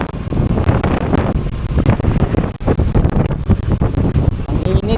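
Strong wind buffets a microphone outdoors, roaring in loud, uneven gusts with rumbling low-end bursts throughout and a brief lull partway through.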